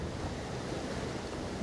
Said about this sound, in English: Oh, that wind is straight in the face.